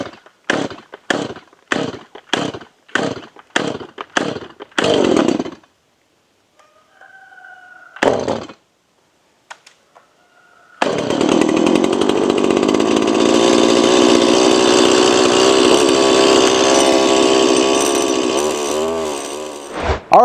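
A gas chainsaw on full choke takes a string of quick pull-start tugs, sputters briefly, then fires and runs steadily at a loud close idle and rev for several seconds.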